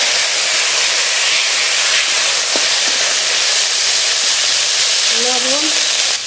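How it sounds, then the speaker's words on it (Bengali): Potato peels going into a hot pan with fried dried chillies, green chillies and garlic, a loud continuous close hiss and sizzle, with a brief voice near the end. "শুকনো লঙ্কা, কাঁচা লঙ্কা, রসুনটা একটু ভাজা ভাজা করে নিয়েছি। এবার আলুর খোসা দিয়ে দেব।"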